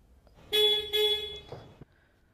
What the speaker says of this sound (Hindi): लॉक करेंगे सिंगल बीप अनलॉक करेंगे तो दो बीप